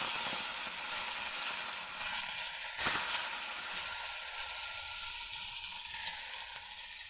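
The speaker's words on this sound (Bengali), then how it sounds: "এবার ওই তেলের মধ্যে টমেটো আর পেঁয়াজ কুচি দিয়ে দেবো।" Chopped tomato and onion sizzle in hot oil left from frying fish, a steady hiss with a brief louder burst as they go in, then an even crackle without talk.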